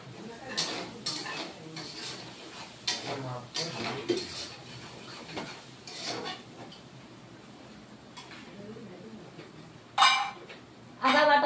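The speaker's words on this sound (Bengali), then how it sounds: "এখন মশলাগুলিকে কষিয়ে নেব।" Spices for a vegetarian potato and paneer curry being sautéed over low heat, with a spatula scraping and clinking against the pan in irregular strokes, a soft sizzle underneath and a few sharper metallic clinks near the end.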